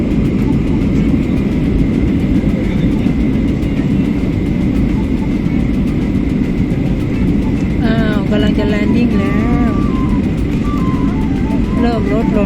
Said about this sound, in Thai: เครื่องบินจะลงแล้วนะคะ